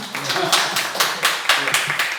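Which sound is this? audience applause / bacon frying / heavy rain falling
audience applause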